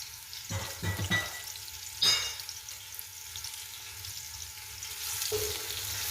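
Chopped onions frying in hot oil for beef biryani, a steady soft sizzle with a few stirring scrapes and clatters near the start, close and moderately quiet, no talking.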